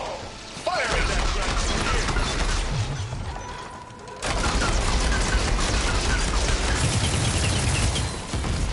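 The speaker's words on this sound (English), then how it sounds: "it looks like Zoe's giving us some supporting fire" Supporting gunfire in Horizon Forbidden West, a rapid fusillade of shots and impacts that drops briefly and then returns loud and sustained, with voices heard at points.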